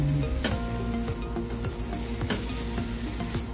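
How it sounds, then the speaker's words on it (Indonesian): Carrots with oyster sauce and seasoning sizzle in a pan, a steady close frying hiss broken by several sharp scrapes and clacks of stirring. "tumis wortelnya hingga matang"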